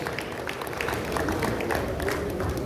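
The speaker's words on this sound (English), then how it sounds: "Please give them a round of applause." Audience applause at a convention launch event in Benin City, a dense patter of many hands clapping at steady loudness throughout.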